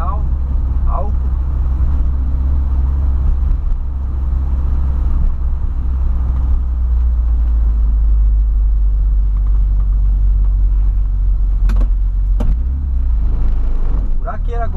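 A Volkswagen Voyage with its original AP 1.6 engine runs at high revs, a loud, steady low engine rumble that holds for the whole stretch, with a few brief sharper noises near the end.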